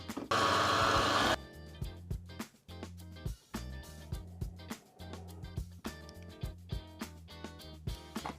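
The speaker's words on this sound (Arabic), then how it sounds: "هحطها في بولت الميكسر وويب" An electric stand mixer whips qamar al-din apricot cream in its bowl, a loud steady whirring burst lasting about a second before it cuts off and rhythmic music takes over.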